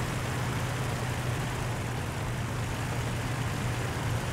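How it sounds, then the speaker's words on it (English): Close enemy aircraft engine in the IL-2 Flying Circus WWI flight game, a steady low droning roar that holds loud and constant throughout with no talk. "Man, I can hear his engine. He's so close."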